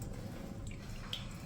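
Water trickles and splashes faintly from a tap into cupped hands during wudu, a soft close running flow with light drips.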